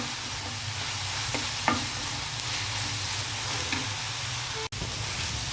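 Ginger garlic paste frying in a pan for a curry, a steady close sizzle with occasional spoon scrapes and one sharp click near the end.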